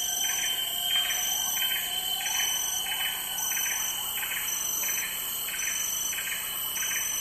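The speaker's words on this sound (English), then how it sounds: "Birds." Birds call in a recorded natural soundscape: a regular series of bright, evenly spaced chirps repeats against a steady high insect-like drone and a faint background hiss.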